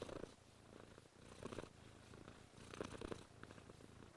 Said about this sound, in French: Le ronronnement a des effets bénéfiques sur la santé physique et psychique de l'homme.